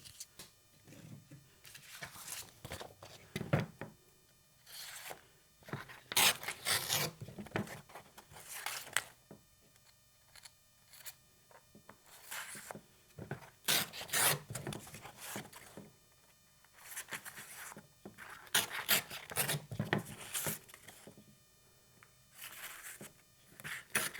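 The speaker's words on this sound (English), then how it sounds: "I'm going to take these over and get going on the hand sanding" Damascus knife handle scales being hand sanded, with irregular bursts of scratchy abrasive rubbing separated by short pauses, close and fairly quiet.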